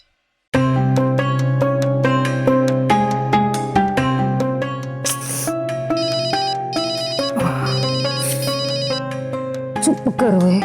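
A telephone rings with a loud, continuous melodic ringtone that plays for several seconds, near and clear, with a few brief sounds toward the end.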